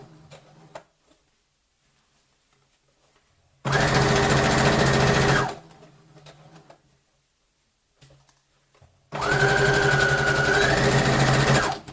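A sewing machine stitches a pencil case lining in two loud, steady runs of about two seconds each, separated by quiet pauses with faint handling noises.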